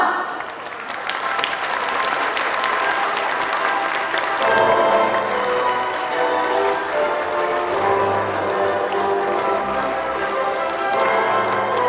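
Wedding banquet guests in a hotel ballroom applauding the newlyweds, loud sustained clapping from a large crowd, with music and a voice entering partway through and continuing under the applause.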